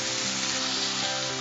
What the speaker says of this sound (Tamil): மசாலா வறுத்தெடுத்துக்கலாம்.